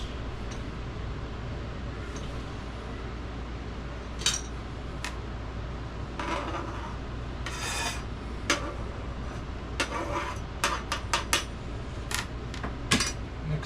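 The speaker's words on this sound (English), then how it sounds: "Cut them up relatively fine slices." A knife cuts about six large olives into fine slices for damper. Sparse, soft scraping cuts sound against a board, with a steady low hum underneath and no talking.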